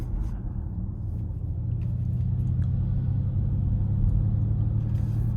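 A 2025 Mustang Mach-E GT Performance electric car accelerating hard, heard from inside as a steady low road rumble that swells slightly over five seconds.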